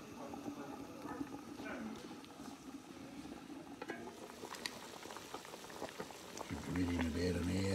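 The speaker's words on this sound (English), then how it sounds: "bubbling away" A pot of food, a boil-up, bubbles and simmers steadily at close range, soft and continuous, with a low hum joining near the end.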